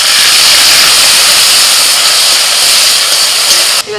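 A splash of water goes into a hot pan holding mustard-poppy paste fried in oil, giving a loud continuous hissing roar of steam that runs throughout and drops off abruptly at the very end.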